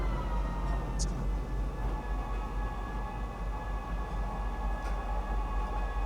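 Metro train pulling into Metro Center station, a steady loud rumble of rails and motors filling the whole stretch, with a couple of brief high squeals from the wheels and no talk.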